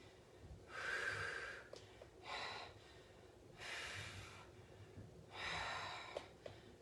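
Four heavy, forceful breaths during a live metabolic weights workout with hip open-and-close moves, each a loud, rushing gasp or exhale about a second long, spaced evenly and heard close up with quiet gaps between.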